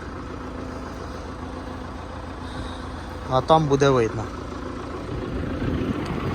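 Old MTZ 892 tractor with its diesel engine running steadily in the field, a low continuous rumble at moderate distance, while someone speaks briefly over it midway.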